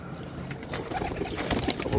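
Pigeons coo softly in a steady murmur, several birds close by, with some rustling and faint background noise.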